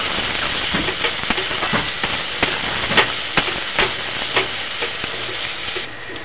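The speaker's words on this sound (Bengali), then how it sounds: "পেঁয়াজটাকে ভেজে নেবো একটু।" Chopped onion with salt fries in hot oil over tempered spices, a steady close sizzle with faint scraping stirs and light clicks throughout.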